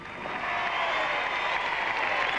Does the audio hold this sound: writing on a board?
no